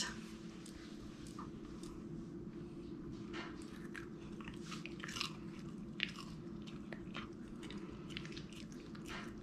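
A dog chews and crunches homemade freeze-dried liver treats, a series of close, moderately faint crunchy bites and munching over a steady low hum.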